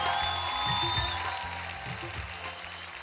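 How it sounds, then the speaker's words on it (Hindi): Loud audience applause at a televised Indian Pro Music League studio show, a dense steady clatter of clapping with music playing underneath throughout. "एक बार जोरदार तालियां"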